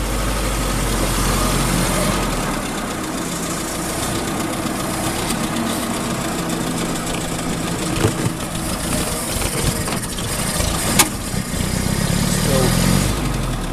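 Engine of a 1924 Bullnose Morris Cowley car running steadily close by, a continuous rough mechanical chug with a few brief knocks and clatters.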